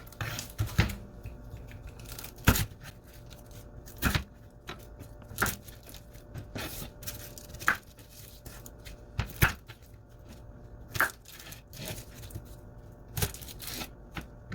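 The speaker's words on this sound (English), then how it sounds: "now I'm going to cut up my onion" A knife cuts up an onion for a squash casserole, with irregular sharp chops and taps on a cutting board, some in quick pairs, fairly quiet over a low background hum.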